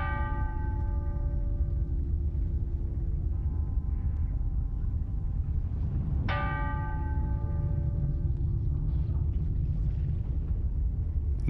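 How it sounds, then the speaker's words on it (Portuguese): Church bells ringing across a city, two big resonant strikes with long humming decays over a deep continuous rumble, the second stroke arriving midway and ringing out slowly. "todos os sinos das igrejas na cidade começam a tocar"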